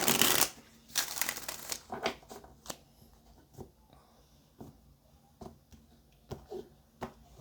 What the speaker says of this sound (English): Okay, Leo, one more shuffle.